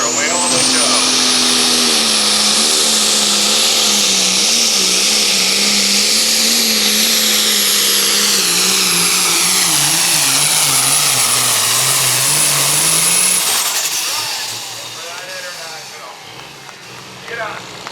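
Pulling tractor at a truck and tractor pull: a loud, sustained high-pitched engine roar with a turbine-like whine that holds steady and shifts in pitch, then drops away near the end.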